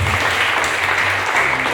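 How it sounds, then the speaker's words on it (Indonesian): A congregation applauds a couple at a church wedding blessing in a short, steady burst of clapping, with no voices on top. "Mari coba kita beri tepuk tangan buat mereka"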